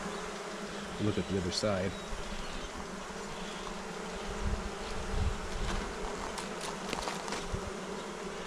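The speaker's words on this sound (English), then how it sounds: "there's a bee right there with pollen in its baskets on its legs" Honeybees buzz around an open hive with brood cells and eggs, carrying pollen on their legs; a continuous low hum runs throughout, with a few louder passes near the microphone and a person speaking briefly early on.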